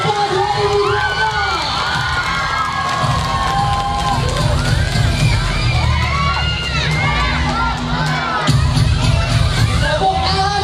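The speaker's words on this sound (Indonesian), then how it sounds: "Kasih tepuk tangan yang meriah untuk HIPA 2025." A large crowd of children and women cheers, shouts and whoops loudly at a pesantren school event, a dense continuous roar with high excited voices throughout and a fresh swell near the end.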